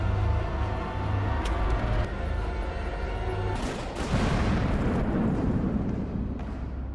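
Military forces fire heavy guns in a siege scene from the film Hotel Mumbai. A sustained roar of gunfire and blasts rumbles under a droning background, and a loud burst of noise swells midway and keeps going.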